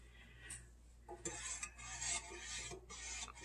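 Spoon stirring sugar into homemade lemonade in a pot on a stove, soft scraping and swishing strokes in irregular bursts, quiet and close, with no talk.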